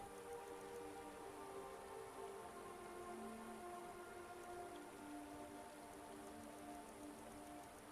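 Steady rainfall in the Elder Scrolls video game Morrowind, a continuous soft hiss of falling drops with a faint tonal background layer, low and even throughout with no speech.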